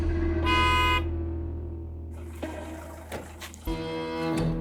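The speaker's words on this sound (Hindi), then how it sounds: "ये क्या हॉर्न बजा रहा बार बार?" A car horn sounds several times in short toots over low traffic rumble, fairly near.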